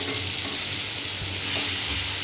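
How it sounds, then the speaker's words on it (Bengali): Potatoes fry in hot oil, a dense, constant sizzle with low rumbling bubbling underneath, loud and close, with no one speaking. "আলুটাকে ভেজে নেব।"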